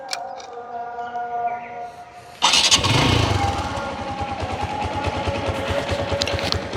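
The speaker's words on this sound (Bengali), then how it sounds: "এবার আপনাদেরকে গাড়ির ইঞ্জিন সাউন্ডটা শোনানোর চেষ্টা করব।" A used TVS Stryker 125cc motorcycle engine starts with a sudden burst, then idles in a steady, close, throbbing putter.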